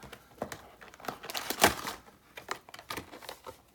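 Plastic wrapping being cut open on a Sorcery: Contested Realm Alpha booster box, with close, faint crinkling and small scratchy snips in irregular bursts and one brighter tearing rasp partway through.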